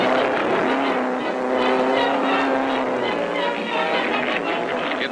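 Motorcycles race up a steep hill climb at wide-open throttle, a loud, continuous engine roar with rising and falling pitch that fills the whole stretch.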